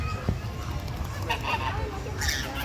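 Ducks at the San Diego Zoo honk in a few scattered calls, moderately near, over a background of outdoor murmur and faint voices.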